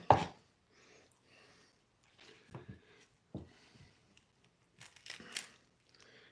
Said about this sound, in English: still chop it as little as you can